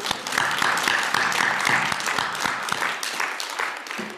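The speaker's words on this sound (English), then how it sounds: "Let's give her another round of applause" An audience at a transgender program event applauds a speaker, a steady wash of many hands clapping at moderate loudness, thinning slightly toward the end.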